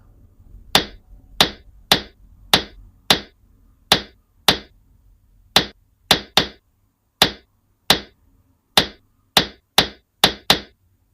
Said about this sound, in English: Like they were really getting hammered in.